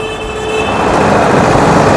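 Busy main road traffic in Bahadurgarh, a loud steady roar of passing vehicles with a drawn-out horn tone sounding close by over the rumble.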